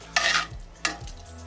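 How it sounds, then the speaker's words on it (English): Vegetables stirred into hot sizzling pasta sauce on a Kamado Joe grill, two quick scraping stirs each with a bright hiss and a soft low clunk of the utensil, close up with no voices. "Lift them all and give them all a mix around,"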